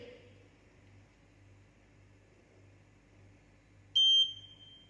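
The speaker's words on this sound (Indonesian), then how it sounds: "menekan tombol on untuk menghidupkan sampai berbunyi tit" A digital laboratory balance in a chemistry lab sounds a single clear electronic beep when switched on, a steady tone of about a quarter second over quiet room hiss.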